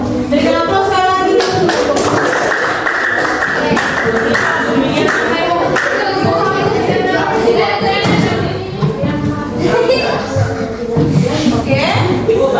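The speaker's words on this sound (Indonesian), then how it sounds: "Berikan aplaus sekali lagi" Classroom applause for a group that has just finished its presentation: a steady burst of many hands clapping close by, lasting several seconds, with students' voices mixed in.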